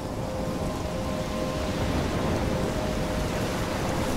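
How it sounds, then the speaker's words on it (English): Steady heavy rain pours throughout a stormy outdoor scene in the Life Is Strange video game, with low rumbling thunder blended into the continuous downpour. "trapped in a storm?"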